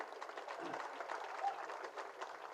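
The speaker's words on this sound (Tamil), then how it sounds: "அவருக்கு நம்முடைய நன்றியை கைத்தட்டல் மூலமாக தெரிவிப்போம்" A crowd at a Tamil film audio launch event applauds steadily, a dense even wash of clapping that continues for the whole stretch, moderately distant and without pauses.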